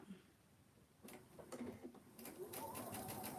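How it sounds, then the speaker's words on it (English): Home sewing machine stitching quilt pieces for a churn dash block, a soft mechanical whir that starts after a quiet second and runs in short bursts, close and moderately loud with no talk. "I had an easier time starting that piece on the sewing machine"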